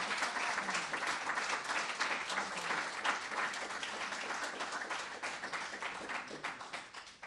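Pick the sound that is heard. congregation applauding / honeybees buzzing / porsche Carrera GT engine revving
congregation applauding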